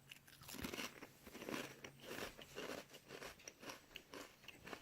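Close, crisp crunching of someone biting and chewing crunchy hummus chips, with repeated rhythmic crackly bites, fairly quiet overall.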